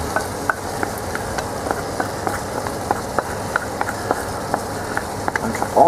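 Onions for a Christmas goulash pot roast fry and sizzle steadily in a pot, with frequent clicks and light knocks of stirring over a dense, constant hiss.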